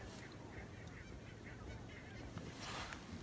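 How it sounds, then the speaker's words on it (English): Barnacle geese in a roadside field give a steady chorus of distant honking calls, continuous and moderately faint against open-air background noise, with a slightly louder burst of calls near the end. "it's filled with barnacle geese"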